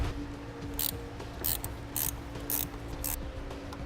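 A ratchet wrench loosens a nut on a stud while setting up a Roadmaster battery charge line kit, giving several quick, crisp bursts of clicking in an even rhythm, close and alone.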